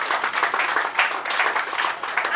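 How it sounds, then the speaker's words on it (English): An audience at a school library fundraising event claps steadily, a dense, continuous wash of many hands at moderate loudness with no talking over it. "Clap for yourselves."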